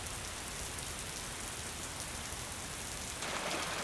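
Dense, soft crackling patter that sounds like light rain, steady throughout and slightly brighter near the end, made by many fingers snapping together in a group rain-imitation exercise.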